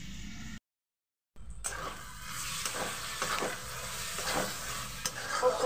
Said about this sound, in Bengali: খুব সুন্দরভাবে মশলার সঙ্গে চর্বিটা কষিয়ে নিয়েছি